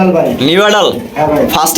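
A black pigeon coos close by in a pigeon loft, a short rolling, warbling call that rises and falls, with a voice talking over it.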